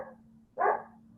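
A dog gives one short, sharp bark at moderate distance after a faint earlier yip, standing out clearly over a low steady hum in a quiet room.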